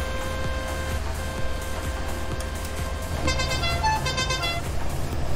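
A car horn in the video game Farming Simulator 19 sounds in a sustained toot over a steady engine rumble, loud and close, with no voices heard.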